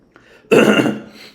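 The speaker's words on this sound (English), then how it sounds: "So that's where all the coughing comes in" A single harsh cough, close and loud, preceded by a faint short throat noise, then trailing off.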